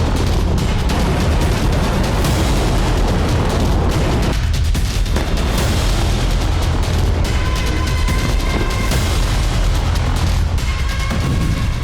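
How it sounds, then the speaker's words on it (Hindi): Missile strikes hit targets in Kyiv, Ukraine, and keep up a dense, loud rumble of explosions and roaring blasts for the whole stretch. Sharp cracks and crackling debris come through on top, with no break in between. "मिसाइलों से इतना सटीक प्रहार कि कीव में तय हर टारगेट नष्ट हो सके"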